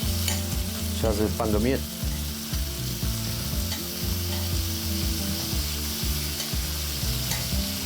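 Shrimp and tomatoes frying in a pan, a steady soft sizzle with repeated stirring scrapes and clinks of a utensil against the pan, and a brief spoken remark near the start.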